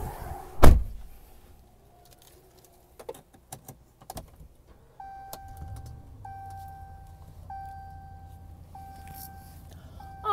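Someone climbs into a 2014 Ram 1500 Laramie Crew Cab 4x4 pickup: a sharp door thump, scattered clicks and rustles, then the engine turns over into a steady low idle while an interior chime repeats at even intervals.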